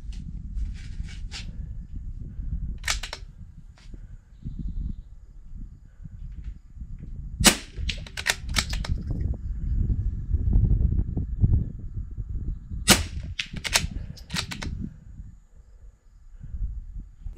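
Rifle shots at an NRL22 match stage, fired seated with the stock braced on the right knee: a few sharp cracks near the start, then two tight clusters of shots later, over low outdoor rumble.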